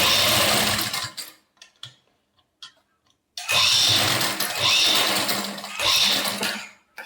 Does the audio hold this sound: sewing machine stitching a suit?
yes